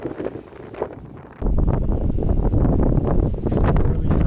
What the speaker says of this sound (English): it's getting windy, so it's curious to see how both microphones do in these conditions